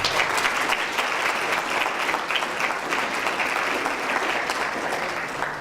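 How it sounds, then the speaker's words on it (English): Sustained audience applause fills a banquet hall, dense and steady clapping from a large crowd throughout, loud and unbroken with no break or pause. "Let's have another round of applause for our two speakers, Alexis and Ingrid."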